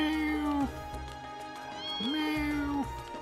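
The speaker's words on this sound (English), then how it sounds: "Oh, cat." Two drawn-out cat meows from the video game Trails of Cold Steel, each a rising then falling cry, heard clearly and close with a short gap between them.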